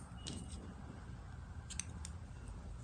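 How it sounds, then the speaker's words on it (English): Scissors snip through white crochet yarn in a quiet room: a few quick, faint cutting clicks near the start and another small cluster about a second and a half later. "And I'll cut my white yarn,"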